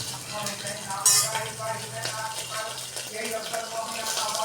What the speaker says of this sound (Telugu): ఇప్పుడు ఒక కుక్కర్ పెట్టుకొని దాంట్లో ఆయిల్ కొంచెం వేసుకోనండి, జీలకర్ర, కొంచెం ఆవాలు, ఇంకా వెల్లుల్లిపాయ, ఉల్లిపాయలు